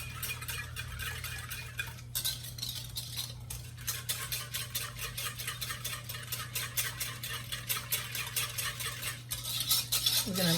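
A utensil stirs dry yeast into a cup of cold milk in a bowl, giving steady scraping and clinking strokes that run on without pause, close and fairly loud, with no voices.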